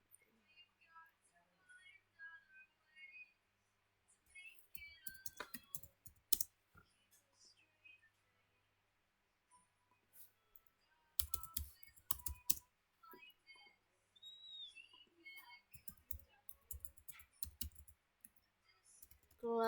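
Typing on a computer keyboard during a command-line session, with quiet, close clicking keystrokes that come in scattered short bursts separated by pauses, a few faster clattering runs, and a soft voice now and then.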